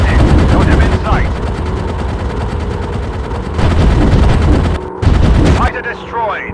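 Rapid machine gun bursts from a WWI fighter plane in a video game, loud and close, firing in sustained volleys with brief pauses over a droning engine, while game voices speak over the gunfire.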